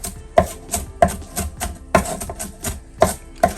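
Vegetables are chopped coarsely with a knife on a cutting board: a series of about eight sharp, close chopping knocks in an uneven rhythm, with a short rustle between strikes and no talking.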